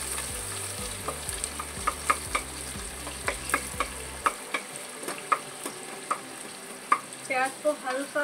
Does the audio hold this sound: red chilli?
yes